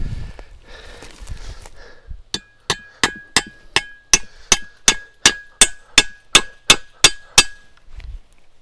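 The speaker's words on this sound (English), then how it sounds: "So there's the hammer head. Here's a nail." The hammer head of a survival entrenching tool drives a nail with about fifteen sharp, ringing metallic strikes at a steady rhythm, loud and close, after some quiet handling sounds.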